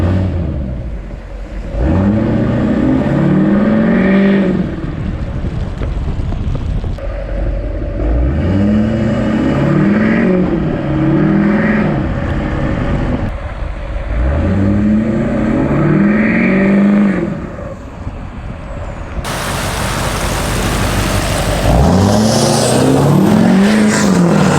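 Old diesel farm truck revving hard in repeated bursts, engine rising and falling in pitch several times at close range, ending on a louder, rougher pull.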